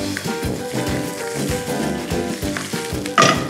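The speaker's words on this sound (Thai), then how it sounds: "กระทะร้อนแล้วเราใส่ผักไปเลย" Chopped vegetables, including pak choi, hit a hot pan for a Thai stew, giving a close, crackling sizzle with irregular pops and a sharp burst near the end, no talking over it.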